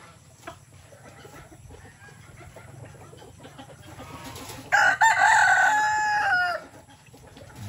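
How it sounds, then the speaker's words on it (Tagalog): Farm chickens cluck and scratch in the background while a rooster lets out a loud, close crow of about two seconds near the middle, with soft clucking continuing after it. "Mga manok. Ayan sila."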